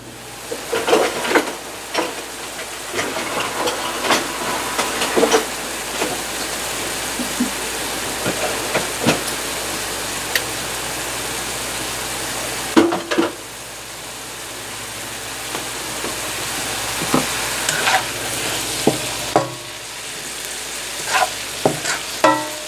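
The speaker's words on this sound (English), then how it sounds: "I have some hot oil here in the wok. We're going to put in our onions and green onions and garlic." Onions, green onions and garlic sizzle steadily in hot oil in a wok, a loud close frying hiss broken by occasional stirring scrapes and clacks.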